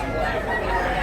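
Fighting roosters at a chicken seller in Tabunok, Cebu, crowing steadily through a thick, busy market hubbub, with voices mixed into the noise.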